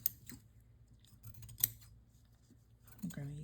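Scissors trim paper lace for a journal tag in a quiet room: several crisp, close snips at irregular intervals, then faint rustling and a short bit of humming.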